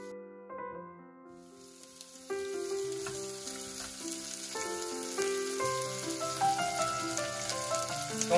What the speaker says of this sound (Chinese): 咁咧个洋葱咧，你唔使炒到佢干黄色嘅